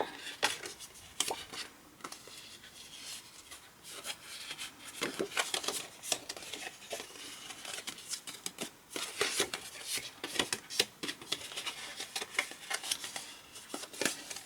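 Cardstock for a pop-up card is creased and folded by hand, giving close, soft rustling and crisp paper scrapes in an uneven run of small taps and swipes, faint overall.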